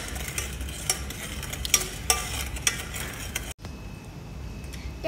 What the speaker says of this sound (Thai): เราก็จะมาคนให้มันเข้ากันนะคะ